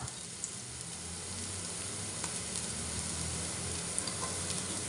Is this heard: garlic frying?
yes